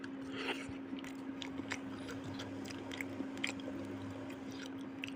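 Someone chews a piece of boiled sweet potato that is still slightly undercooked, making soft, close, moist chewing sounds that repeat quietly over a faint steady background hum.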